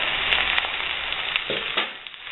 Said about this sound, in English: I'm frying the last three now and browning them